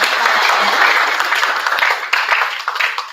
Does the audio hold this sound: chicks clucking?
no